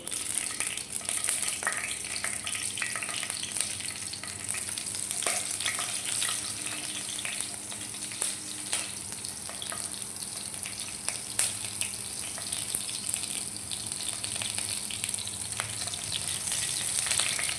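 A spoonful of black cumin seeds and four green chillies fry in hot oil, giving a continuous soft sizzle with scattered light clicks and brief watery sounds, with no talking.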